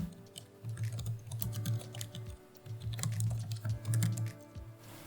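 Continuous computer keyboard typing while an email address is entered into a website sign-up form; quick, steady keystrokes at close range with a brief pause midway, no voices.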